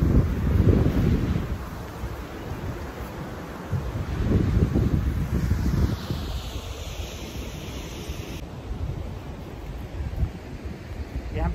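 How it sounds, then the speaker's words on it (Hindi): A fast-flowing river near Waghai waterfall in Valsad sends up a constant rushing roar, with gusts of wind buffeting the microphone and the level swelling and easing. "देखिए पीछे बैकग्राउंड में कितना तेज फ्लो है नदी का।"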